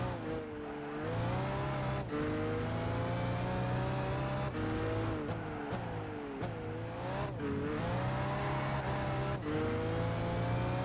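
A race car engine in Gran Turismo 5 revs hard and climbs through gears, its steady roar dipping at each shift across a long run, loud and alone.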